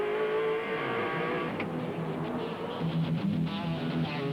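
V8 Supercar race cars on the Wellington street circuit braking through a high-speed chicane, engines dropping in pitch then revving again in close, loud bursts over a steady mechanical roar.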